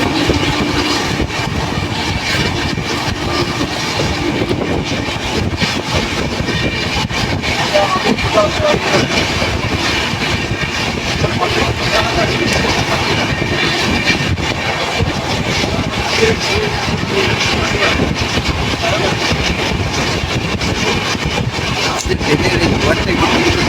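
Gour Express on the Kolkata to Malda route at night, running and overtaking a local train: a sustained rumble and rattle of wheels and carriages, steady and fairly loud throughout.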